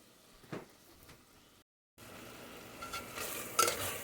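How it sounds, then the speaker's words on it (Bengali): Tomatoes cook in a kadai over medium heat for kadai chicken while being stirred, making faint scraping and soft sizzling, broken by a brief silent gap before the stirring resumes slightly louder. "যতক্ষণ না টমেটোগুলো ভালো করে গলে যাচ্ছে এটাকে নাড়তে থাকবেন"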